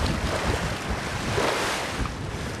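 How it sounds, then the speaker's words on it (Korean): Rough open sea off Malta near an offshore tuna farm, with high waves surging and washing around a boat under steady wind noise, a dense continuous roar with no voices. "먼 바다까지 나와 그런지 파도가 꽤 높습니다"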